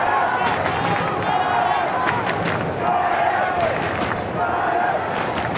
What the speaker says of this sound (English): Some chants ringing around Skoda Stadium